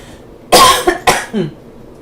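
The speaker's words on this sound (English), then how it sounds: "coughing fit." A person coughs hard twice in quick succession, close and loud, followed by a softer rasping cough.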